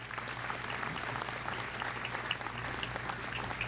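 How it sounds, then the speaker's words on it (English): A graduation ceremony audience gives a round of applause: dense, steady clapping from a large crowd in a hall, sustained evenly throughout. "Please give them a round of applause."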